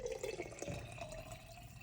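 Water pours from a cup into a pan, a brief close trickle and splash that settles into a soft liquid murmur.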